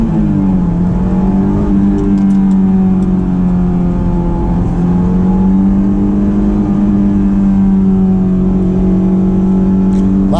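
A Honda S2000 accelerates along a winding road, its engine droning loud and steady from the cabin, pitch rising slightly and holding in a strong sustained whine.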